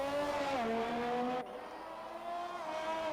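A race car pulling out of the garage in a racing video game, its high engine whine rising and dropping through gear changes, then cutting to a lower steady drone, with no voices.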